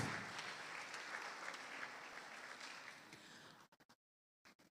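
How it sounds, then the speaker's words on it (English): Graduation audience at a primary school ceremony applauds its valedictorians, a dense, steady crowd clapping that fades out near the end into a few scattered last claps and silence. "let's give them a round of applause"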